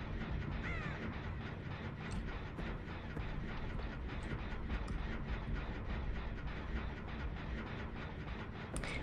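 A crow caws a few times over a dense, steady rumbling game ambience in Dead by Daylight, the calls fairly faint and partly buried in the constant noise.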